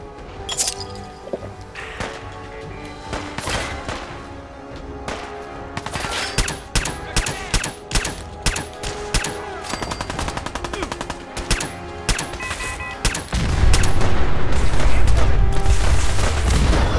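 Rapid automatic fire from the player's weapon in Fallout 4 survival mode, long rattling strings of close, loud shots with brief gaps, ending in a heavier rumbling blast.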